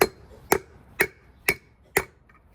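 An old wheel bearing is struck with a hammer to drive a new wheel bearing into its housing: five sharp metallic knocks at an even, unhurried pace, close and distinct against a quiet background.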